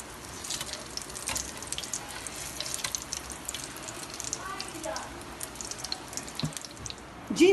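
Potato and beef mince cutlets fry gently on low heat in a pan, making a steady, soft sizzling hiss throughout with slight crackle. A voice is faintly present.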